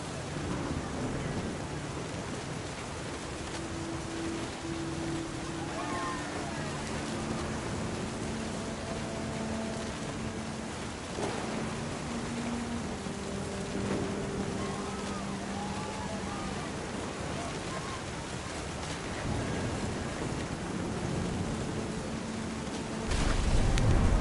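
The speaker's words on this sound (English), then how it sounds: "The thunder sounded much too close and full of angry power." Thunder and rain in the video game What Remains of Edith Finch: a continuous wash of rain with low, rolling rumbles of thunder, and a louder burst near the end.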